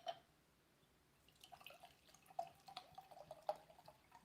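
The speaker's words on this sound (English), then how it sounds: "Let me pour some wine" Wine trickles and drips faintly into a glass, soft liquid splashes and small droplet ticks in a quiet indoor room with no talking.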